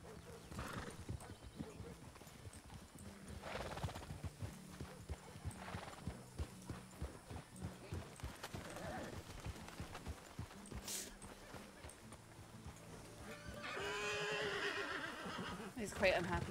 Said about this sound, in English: that horse in the round pen is not too happy